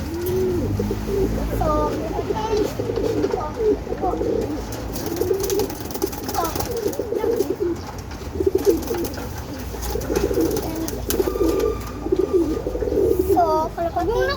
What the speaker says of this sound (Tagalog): so, kalapati.